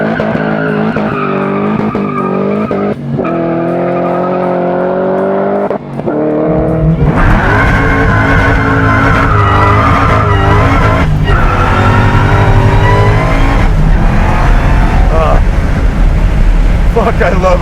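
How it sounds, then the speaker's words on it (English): A 755 hp LT5-powered 1979 Camaro Z28 muscle car accelerates hard, its engine roaring through rising and shifting revs, swelling sharply louder partway through and staying loud and close, with a voice audible under the roar. "I love a well-built muscle car"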